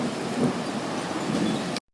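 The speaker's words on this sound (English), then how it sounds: "Oh, there's a hail. Here comes the hail." Dense hail and heavy rain pelt down in a thunderstorm on the Joplin, Missouri tornado day of May 2011, a loud, continuous broadband clatter and hiss that stops abruptly.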